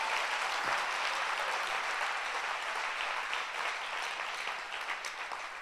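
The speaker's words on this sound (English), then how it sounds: "Clap your hands. You can clap your hands." A church congregation at a camp session claps hands steadily and loudly throughout, a dense continuous patter with no speech over it.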